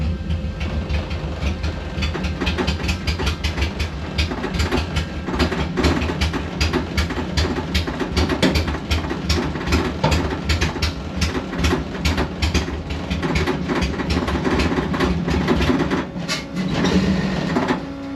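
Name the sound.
VW Bus with Subaru engine idling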